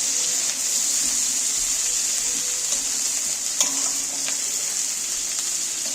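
Steady, bright sizzle of onions frying lightly in a pan for a fish roe dish, continuous and close, with an occasional faint clink of a utensil.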